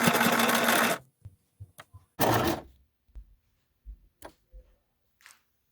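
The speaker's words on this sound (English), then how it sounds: "now I'm going to be sewing along this edge." An electric sewing machine stitches along the edge of a handmade fabric travel bag, running loud and steady for about a second, then a second short burst after a few soft clicks and handling taps.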